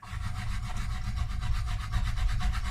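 A diamond file rubs back and forth across guitar frets on a Harley Benton Tele Standard electric guitar, making a close, steady, rhythmic rasping with evenly spaced strokes throughout.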